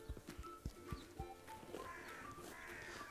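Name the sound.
donkeys playing and moving about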